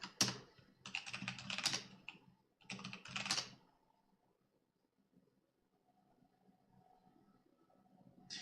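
Bursts of rapid keystrokes on a computer keyboard during a Linux disk-encryption setup, loud clattering runs with short pauses, then a quiet stretch near the end.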